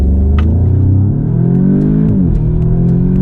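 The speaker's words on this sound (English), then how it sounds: "I want to do one acceleration here in the S3" An Audi S3 accelerates hard from a standstill toward 60 mph, its engine droning loud and steady from inside the cabin as the pitch climbs, then drops briefly at a gear change before rising again.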